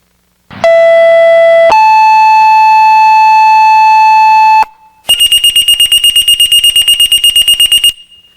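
A piercing electronic alarm blares, first as two steady sustained tones, then as a rapid pulsing high-pitched beeping. Very loud and close, with no voices.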